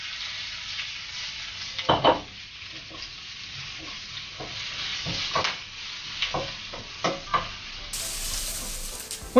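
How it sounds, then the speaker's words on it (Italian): Chopped onion frying in a wok for an Indian pork vindaloo, with a steady close sizzle and repeated scraping strokes of stirring, louder bursts recurring every second or so. "andiamo ad aggiungere la nostra cipolla e mescolando facciamo cuocere per circa 10 minuti."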